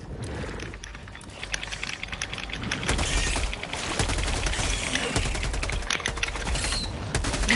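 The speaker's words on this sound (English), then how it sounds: "there's fireworks going off at the rodeo over here" Fireworks going off at a nearby rodeo crackle and pop in rapid, irregular bursts like a fusillade, fairly loud and continuous, with game sound and a voice faintly mixed in.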